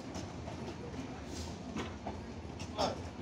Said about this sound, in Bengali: থ্রু পাস হয়ে চলে যাচ্ছে সৈয়দাবাদ রেল স্টেশন